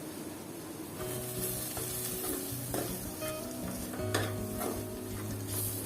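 Garam masala and salt are stirred into a sizzling pan for tapioca beef biryani, a soft frying hiss under repeated scraping and light clinks of a spoon against the pan.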